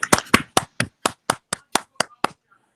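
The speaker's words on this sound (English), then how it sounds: "Applause for Eric Albertus, please." About ten sharp, evenly spaced claps ring out close and alone, quickly fading to silence, as applause at an online parent informational meeting.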